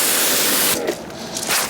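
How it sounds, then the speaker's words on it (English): A spray bottle nozzle hisses as it sprays protection product onto car paintwork, a loud broad burst that cuts off briefly and then resumes more softly. "turn on the bottle's little nozzle, and then spray it on, one panel at a time"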